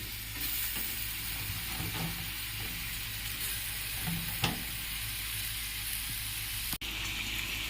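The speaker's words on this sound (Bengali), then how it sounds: "প্রথমে আমি আলুটা ভেজে নিয়েছি, তার সঙ্গে চিংড়ি মাছ কটা আছে সেটাও দিয়ে দেব।" Potatoes and prawns fry steadily in a pan, giving a continuous close sizzle with occasional stirring scrapes and one sharp knock near the end.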